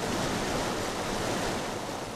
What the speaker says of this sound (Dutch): Water uit de Waal stroomt hier de nieuwe geul in.